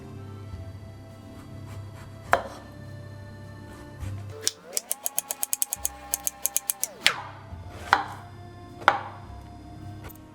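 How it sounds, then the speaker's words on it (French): A kitchen knife slices zucchini into very thin strips, a quick run of about a dozen crisp, evenly spaced cuts in the middle, with a few isolated knocks before and after, close and clear. "Avec un couteau, je coupe en lamelles très fines."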